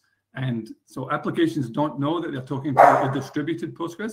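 A dog barks in short bursts in the background, heard beneath a man steadily presenting a workshop on a distributed Postgres database on Azure.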